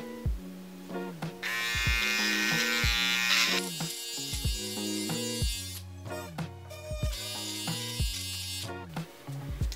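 Electric hair trimmer buzzing steadily while cutting hair during a men's long layered haircut, a close, constant electric hum with clicking and shifting tones as it moves through the hair.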